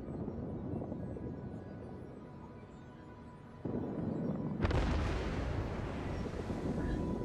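Naval artillery gunfire in the World of Warships video game. A steady low rumble of ship and ocean noise gives way to a sharp, loud blast near the middle, followed by louder sustained roaring with no voices.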